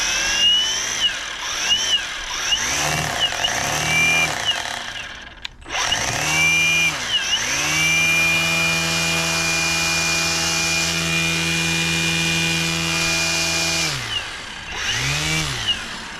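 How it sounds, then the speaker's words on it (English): An Ego cordless multitool with a strimmer attachment whines loudly up and down in pitch as the variable-speed trigger is squeezed and released, with a brief cut-off mid-way before a long sustained high-revving stretch and a final rise and fall. "it's variable speed, so once you've engaged it, you've got full control as to how hard you rev it"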